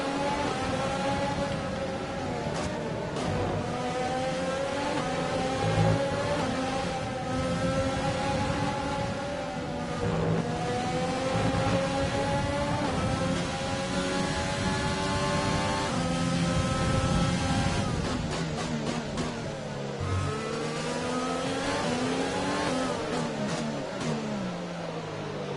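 Formula 1 engines in the racing game F1 2020, with Jaguar team cars at Mexico, roar continuously with rising and falling pitch sweeps as the cars accelerate and shift through gears, loud and alone without commentary.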